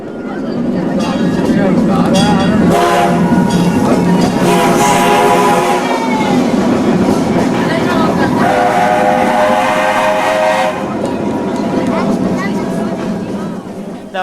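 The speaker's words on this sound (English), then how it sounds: "the best way to explore on your very first visit is to take a tour of the park by" Tour train at PortAventura theme park in Salou, Spain, rumbling loudly with whistle-like tonal tones rising and falling, and a voice speaking over the steady ride noise.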